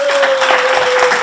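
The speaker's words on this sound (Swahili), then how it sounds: "Makofi kwao." A crowd at an awards ceremony claps steadily for a cooperative union called up as value-addition winners, a dense, even wash of applause filling the short moment.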